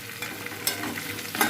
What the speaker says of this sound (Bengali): এটা হালকা ভেজে নেব